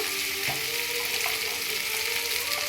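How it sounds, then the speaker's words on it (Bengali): Spices with ginger-green chili paste and Kashmiri red chili powder frying in a pan, giving a dense, even hiss of sizzling oil with a few faint stirring clicks, close and continuous, no voices. "এবার একটু কষিয়ে নেব একটু কাশ্মীরি রেড চিলি পাউডার দিয়ে দিলাম কালারের জন্য"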